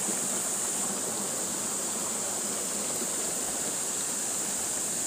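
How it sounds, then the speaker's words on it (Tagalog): A rushing stream near Linaw Baboy Falls flows with a steady, dense hiss of water that stays constant and close, with no voices. "napakagandang batis ang ating nakita ngayon"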